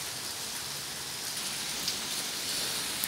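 Heavy morning rain in Campinas, São Paulo, pouring steadily onto surfaces outdoors, a dense unbroken hiss at close range with a few louder drops splashing near the end and no voices.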